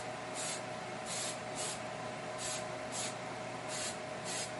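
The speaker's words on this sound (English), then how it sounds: "take the Super Hold hairspray and spray just the body of the tree" Super Hold hairspray sprayed in short hissing bursts onto the foliage of a model railway tree, about seven quick puffs in a steady rhythm over a constant background hum.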